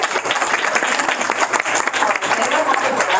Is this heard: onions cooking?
no